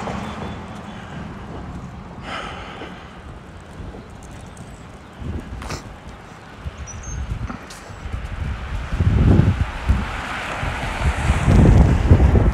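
Wind gusting around a person walking outdoors along a creek and city avenue in Regina in April, a steady rushing roar that swells louder and buffets the microphone toward the end, with a few faint thumps of footsteps.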